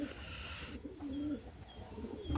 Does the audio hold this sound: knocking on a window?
no